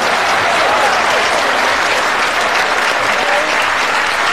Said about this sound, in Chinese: 下面让我们用最热烈的掌声，有请我们最漂亮的新娘讲话